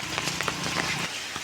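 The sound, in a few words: heavy rain falling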